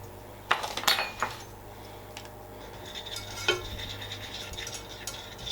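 A spoon scrapes and clinks against a pan as flour is stirred tablespoon by tablespoon into melted butter, a few brisk metallic strokes early and then lighter scraping over a faint steady hiss.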